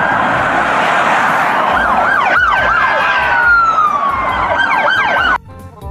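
A loud electronic siren from a toy police car wailing up and down continuously, with rapid yelp sweeps, cutting off abruptly near the end.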